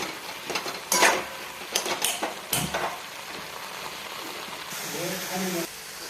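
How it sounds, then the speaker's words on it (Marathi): Spatula stirring ground peanut powder into a green chilli and dill vegetable dish in a pan: several clattering scrapes over a soft sizzle, with a voice talking near the end. "परतूयात आपण मस्त शेंगदाण्याचा कूट भाजीमध्ये मिक्स होईल असं घेऊयात छान असं हे करून"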